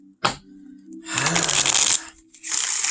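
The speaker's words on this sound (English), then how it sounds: "Maybe I'll even it out with my riffle shuffling." A Morgan-Greer tarot deck is riffle shuffled by hand: a quick tap and crack, then a second-long burst of cards flicking together, a pause, and a second riffle starting, close and crisp.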